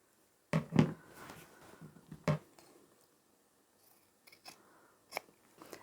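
Scissors snip through fabric close to a stitching line while trimming a triangle off a sewn wash bag corner, a few short crisp cuts near and quiet, then sparse faint clicks.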